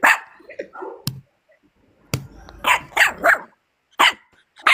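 A dog barks repeatedly and loudly up close, in sharp separate bursts and short clusters with brief quiet gaps between them.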